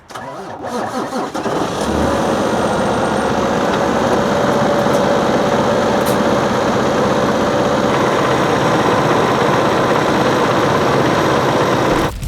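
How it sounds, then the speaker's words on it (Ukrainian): A Cummins diesel truck engine cranks and fires up, then settles into a loud, steady idle that rumbles on continuously. "камінс мотор. Давай будемо заводити."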